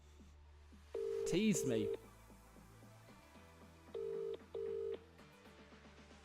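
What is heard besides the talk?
phone call tones reaching Vodafone voicemail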